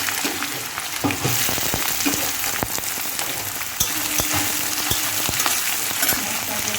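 Loud, dense crackling sizzle of chopped onions frying in hot oil for chicken bhuna, with scattered sharp pops and stirring scrapes throughout.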